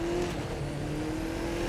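A Koenigsegg supercar engine in The Crew 2 racing video game holds a steady, droning tone at a constant pitch under a broad rushing roar, loud and close.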